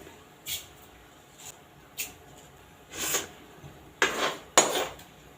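Mustard seeds crackling in hot sesame oil for a pepper kuzhambu, heard as sparse, quiet pops and sizzling bursts that grow denser and louder toward the end.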